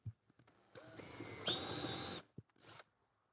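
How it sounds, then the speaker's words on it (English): A power drill with a tape depth marker drills holes, its motor whirring steadily for about a second and a half, pitch rising as it bites, followed by a shorter second burst. "I just use my drill here that we've been using for a while, just to kind of, with some tape on it"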